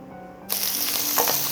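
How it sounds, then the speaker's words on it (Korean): Rib-eye beef hits a hot pot for tteokguk with a sudden loud hiss that bursts in after a quiet start, then settles into a close, steady sizzle with crackling spikes. "고기를 볶고 들어갈게요."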